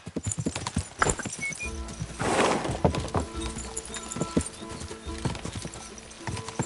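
Horse galloping in a video game: a steady, rhythmic clip-clop of hooves running close by, with a brief whinny partway through.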